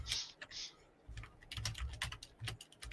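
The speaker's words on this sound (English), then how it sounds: "Now just listen to the clickety-clack of my keyboard." Fingers type on a computer keyboard in quick irregular bursts of close clicks and clacks with brief pauses, quiet and alone.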